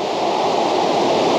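Tibumana Waterfall in Bali pours in a steady, dense rush of falling water, close and loud with no break or voices.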